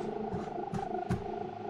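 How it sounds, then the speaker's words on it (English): A ghost alien creature in a video game gives a soft, continuous kitten-like purr, a low steady rumble with gentle rhythmic pulses, close and alone over a faint hum. "It's purring like a kitten."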